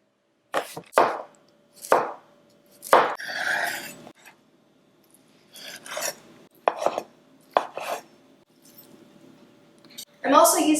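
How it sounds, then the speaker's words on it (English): A knife cuts half a red apple into big chunks for a rainbow pasta salad. About eight sharp, separate thunks hit the cutting board with short pauses between them. "So I'm going to use about a half of this red apple and I'm just going to chop it up into big"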